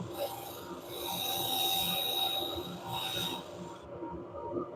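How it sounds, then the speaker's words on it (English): Bristle brush scrubbing a spinning wooden bowl on a woodturning lathe, a steady close rasping rub with a faint whine from the machine, swelling and easing slightly, with no talk. "We'll use my brush. Brush sanding pieces."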